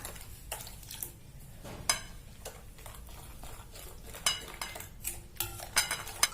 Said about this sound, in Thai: ค่อยๆใส่แล้วค่อยๆคนค่ะ